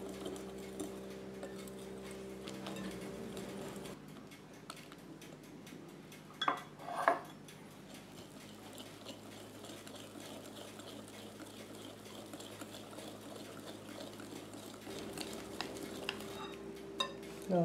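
A spoon works through a healthy oat dessert mixture with yeast in a bowl, soft scraping and clinking against the sides at a slow irregular pace, quiet and close with a couple of sharper knocks midway.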